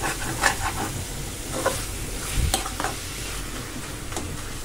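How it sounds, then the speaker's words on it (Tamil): Tomatoes, onion and ginger garlic paste sauté in a pan for a rajma paneer gravy, with a constant close sizzle broken by several soft scraping stirs of a spoon, and no one talking. "நல்லா தக்காளி போட்டு நல்லா வதக்கி விடுங்க."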